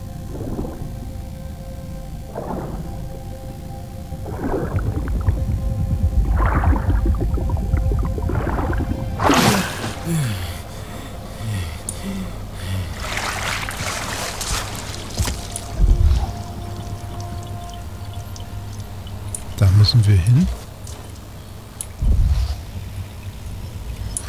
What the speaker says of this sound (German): Ach, das ist Wasser.